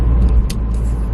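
Ford Focus RS engine pulling hard through the gears, a loud, steady low rumble heard from inside the car for just over a second, with no talking.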